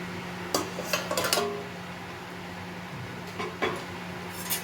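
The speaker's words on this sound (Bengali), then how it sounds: "এবার ঢাকা দিয়ে 5 মিনিট রেখে দেবো" A lid goes onto a cooking pot of dim posto (egg in poppy seed gravy): a quick cluster of sharp metallic clinks and clatters, then a pause and a few more clinks, close by, with no speech.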